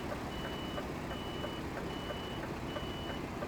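A truck with a trailer in Euro Truck Simulator 2 sounds evenly spaced reversing beeps while turning around, faint over a steady low engine hum.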